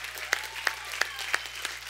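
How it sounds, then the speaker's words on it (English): Congregation at a church sermon giving a praise clap, with sharp, evenly spaced group claps roughly every third of a second over a soft background. "You need to give God a praise clap."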